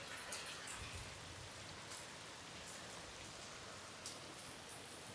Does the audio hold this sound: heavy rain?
yes